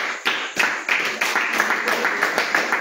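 A congregation in a house church gathered for prayer and exhortation claps in a steady rhythm, sharp close-up claps repeating about every third of a second, with voices faintly beneath.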